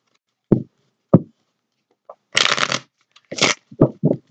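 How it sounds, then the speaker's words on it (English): A deck of tarot cards being shuffled and cut: a few sharp single card taps, then two longer riffling bursts and several quick knocks, close and clear with no talking. "Spirit saying shuffle once and cut the deck"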